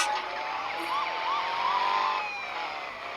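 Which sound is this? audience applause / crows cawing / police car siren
police car siren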